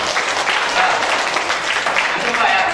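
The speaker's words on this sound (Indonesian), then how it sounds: "Tepuk tangan buat saya." Applause from a classroom audience of teachers at a lively teaching workshop, a steady dense wash of clapping lasting the whole stretch, fairly loud and close.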